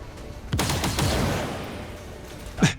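In XCOM 2, a soldier fires at a Hive Guard, giving a loud gunshot with a rattling decaying tail and then a second sharp crack shortly after, with no talk over it.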